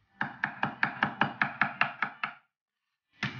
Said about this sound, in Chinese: 沙姜拍扁后把它切碎